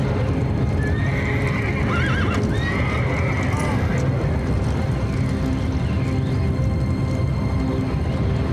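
Horses neigh and whinny over steady clip-clopping hooves in a busy scene with a constant noisy background, the calls rising clearly at several points.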